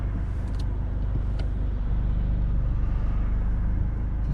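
Road traffic rumbles steadily from inside a car waiting to pull out at a junction on a driving test route in Nuneaton, a dense, continuous low drone with faint passing vehicle noise and no talking.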